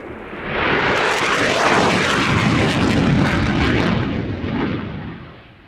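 A Belgian F-16AM fighter jet roars past, its thunderous blast swelling quickly from quiet, staying loud and harsh for several seconds, then fading away.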